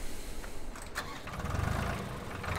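A tractor engine cranks and catches in the video game Farming Simulator 2013, settling into a steady mid-pitched idle with a slight rise in revs, heard alone and fairly close.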